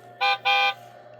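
A toy truck horn gives two short, bright, tonal beeps, one right after the other, close and clear in a quiet room, with no talking over them.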